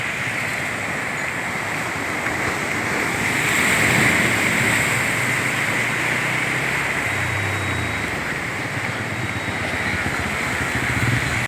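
Continuous wash of ocean waves, a steady broadband roar with gentle swells in loudness and a touch of wind.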